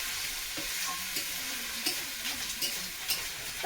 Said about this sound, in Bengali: দিয়ে এটাকে ভালো করে মিশিয়ে নেব।